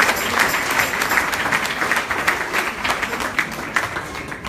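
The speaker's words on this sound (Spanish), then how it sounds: "Denle fuerte el aplauso, hermano, mientras se va a sentar." Church congregation applauding together at a service, a steady dense wash of many hands clapping at close range throughout, with no other sound standing out.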